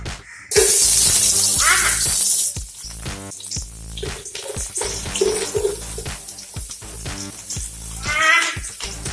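Onions go into hot oil while kuzhimanthi is being made, giving a loud sharp sizzle at first. It then settles into softer crackling mixed with clatter and handling noises.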